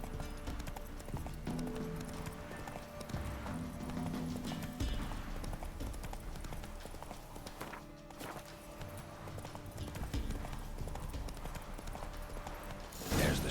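Horse hooves clip-clop at a steady running pace in The Witcher 3, a dense, continuous rhythm under a music bed, with a brief dip near the middle and a louder hit at the end.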